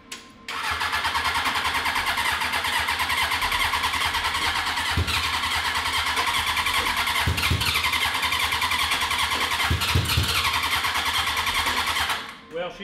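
A 750cc cross kart engine cranks and catches, then runs loud and steady at close range with a harsh, rapid mid-pitched rumble for about twelve seconds before cutting off.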